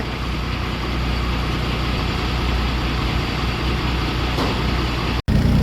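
A truck engine idles steadily, a low continuous rumble that holds level throughout, broken by a brief dropout near the end.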